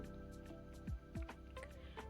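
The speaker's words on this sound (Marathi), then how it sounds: "आता यामधलं पाणी आपण काढून घेऊ" Water draining off soya chunks after they have soaked and swelled, giving a few close, wet squishing drips and splashes over a soft background.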